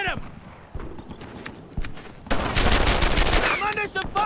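Bursts of rifle and machine-gun fire in a World War II battle from Brothers in Arms: Earned in Blood, sparse shots at first, then a dense sustained volley, with soldiers shouting over the gunfire.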